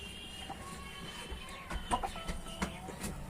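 Backyard hens in a coop calling and clucking at feeding time, several birds overlapping in bursts that rise in the middle of the stretch over a steady low background hum.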